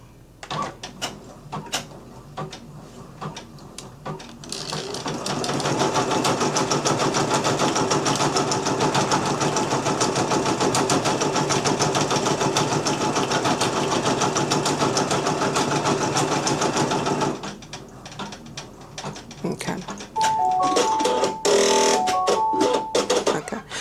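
An embroidery machine stitching out an appliqué design on fabric for a bandana mini tote, running as a loud, steady mechanical whir for about twelve seconds, then stopping and restarting near the end, with a few electronic beeps before it resumes.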